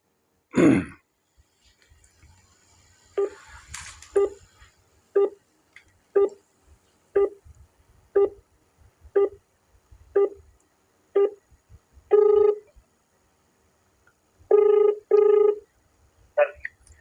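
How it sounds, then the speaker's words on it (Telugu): A telephone call to a politician's phone rings out in evenly spaced tones, about one per second, loud and alone, with a quick burst of dialing at the start and a few double tones near the end. "ఎమ్మెల్యే గారికి డైరెక్ట్గా ఫోన్ చేస్తున్నాను"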